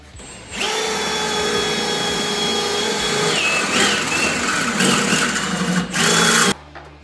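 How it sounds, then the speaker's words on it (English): A power drill whines loudly, boring a hole for a turbo drain bung. The motor speed wavers as it bites into the metal, runs steadily for several seconds, then stops abruptly. "So let's get a hole drilled in this dude"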